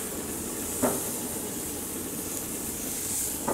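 Onions laid on hot grill grates give off a steady, faint hiss of searing with a soft crackle partway through, continuous and even with no one speaking.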